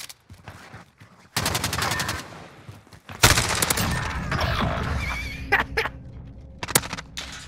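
Bursts of MP5 submachine gun fire in a video game, rapid automatic volleys cut into short and longer strings with pauses between, loud and close, followed by scattered single cracks.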